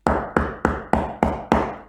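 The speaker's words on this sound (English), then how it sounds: "started banging and pushing the door." A wolf bangs on a wooden door in a three little pigs story: six loud, close knocks fall in an even rhythm, roughly one every quarter second, each dying away before the next.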